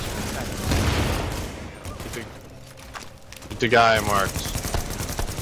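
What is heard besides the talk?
gunfire in a video game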